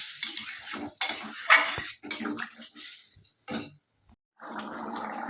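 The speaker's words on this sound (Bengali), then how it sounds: "অল্প পরিমাণ জল দেবো।" Water is poured into chickpea curry with paneer in a pan, splashing over stirring and clinking of utensils, followed near the end by a steady sizzling bubble at close range.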